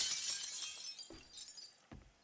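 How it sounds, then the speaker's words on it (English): Framed pictures being smashed in the video game 7 Days to Die, crisp breaking-glass crashes with two sharp hits near the middle and end, close and without speech. "I'm going around smashing up all your pictures."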